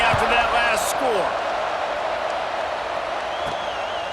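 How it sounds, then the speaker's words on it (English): A stadium crowd buzzes in EA Sports College Football 26, Michigan State vs. Washington, a steady broad murmur of cheering with a few brief whistles and thumps near the start. "this crowd is buzzing after that last score"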